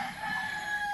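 A rooster crows in a garden, one sustained, loud call held close by throughout, with no talk over it.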